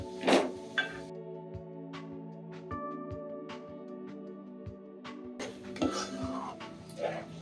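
Beaten egg stirred into a pan for egg bhurji (Indian spiced scrambled egg) with coriander leaves, giving a few close clinks and scrapes of a spoon against the pan over a steady low hum, with no talking.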